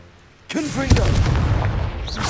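Confringo fire spell blast in the video game Hogwarts Legacy: after a quiet start, a sudden booming burst hits, followed by a second impact and a sustained crackling roar with whooshing effects.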